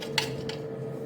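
A new, sharp butter knife cuts through food in a kitchen, giving two brief, light scraping clicks against a steady low hum.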